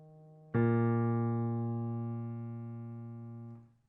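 A single low piano note struck once and left to ring for about three seconds before being cut off, heard alone.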